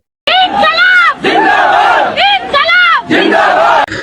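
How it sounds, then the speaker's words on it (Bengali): Thousands of students chant the slogan Inquilab in loud, rhythmic bursts, with a massed crowd's voices rising and falling in repeated cries. "হাজার হাজার লক্ষ লক্ষ শিক্ষার্থী কিন্তু ইনকিলাব ইনকিলাব মানে স্লোগান দিচ্ছে"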